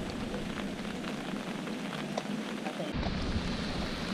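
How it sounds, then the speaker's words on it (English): Heavy rain pours steadily during Hurricane Harvey in Houston, a dense continuous hiss with a faint spatter on surfaces, growing a little louder and fuller toward the end. "So if it continues to rain like this, we're good."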